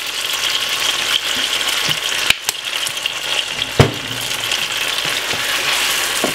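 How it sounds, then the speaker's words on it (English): Carrot and onion frying in a pan for a chicken stew with a pinch of dried thyme and ketchup: a steady, close sizzle throughout, broken by a couple of sharp clicks and knocks from stirring. "So I'm gonna fry them off."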